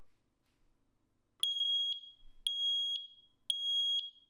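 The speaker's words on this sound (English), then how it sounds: "it'll alert you with an 85 decibel alarm" Sebsen water leak sensor sounding its 85 decibel alarm after touching a shallow plate of water, three loud, shrill electronic beeps in an even rhythm, each about half a second long, in a quiet room.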